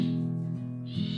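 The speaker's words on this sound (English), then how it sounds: "You can hear the frog in my gutter right now." A frog calls from a rain gutter with a steady, low, resonant hum that continues throughout, rising into a brighter overtone near the end, close and alone.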